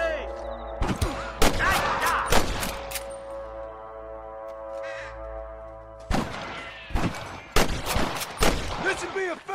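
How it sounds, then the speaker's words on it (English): Old West gunfire in the video game Red Dead Redemption: a loud burst of rapid, sharp shots, a lull, then another volley of close cracks with echoing tails over a sustained musical background. "I can hear more gunshots."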